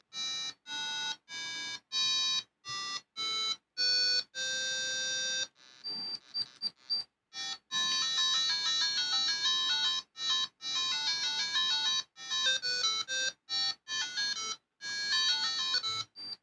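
Bright electronic beeps and short chiptune-like jingles from a Game Boy Advance button test cartridge, loud and close, in rapid bursts separated by brief silences, with a longer melodic run midway.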